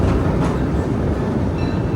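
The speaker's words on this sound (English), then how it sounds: "please remain seated while the train is in motion" Disneyland Railroad train rolling along, a loud, steady low rumble of the cars in motion with faint rhythmic wheel noise, no voices.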